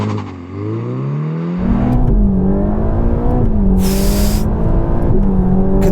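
A Ferrari Roma launches hard from a standstill on a greasy track, its engine rising loud and close through repeated gear changes, with a brief high whine midway.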